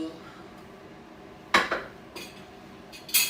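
Several sharp clinks of plates and spoons knock together nearby while making fried rice, scattered in quick bursts over a quiet room background.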